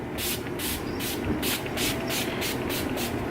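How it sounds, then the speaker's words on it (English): A rapid series of about eight short, hissing mist sprays of setting spray onto a face, in a steady rhythm, close and fairly soft. "I'm going to spray my face with a little bit of De-Slick Setting Spray."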